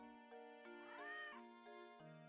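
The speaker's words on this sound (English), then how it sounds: "Found the cat." A cat meows in the video game Professor Layton and the Curious Village, a clear, drawn-out tonal cry rising and falling over steady game music.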